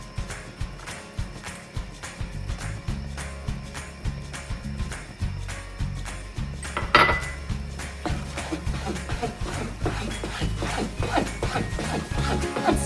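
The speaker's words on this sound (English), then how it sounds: "It's very important to keep stirring it so that it doesn't get burned." Kalakand mixture stirred in a pan, a steady run of metallic scraping and clinking from a spoon against the pan, close and moderately loud, repeating rhythmically with no talk.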